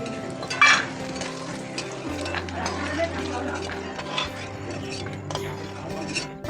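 Peanuts frying in oil in a wok give a steady sizzle with occasional stirring scrapes and clinks, and a voice talks over the cooking.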